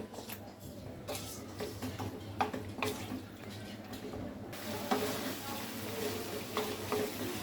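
Eggplant going into a hot pan with fenugreek brings a mix of frying hiss and stirring clatter, with a brighter burst of sizzle partway through; no one speaks.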